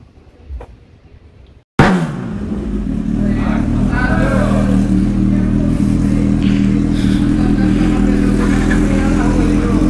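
A Honda Hornet or CB 1000 motorcycle starts up loudly after a brief quiet moment, then holds a steady, close, throbbing idle with small revs, and voices talk faintly beneath it.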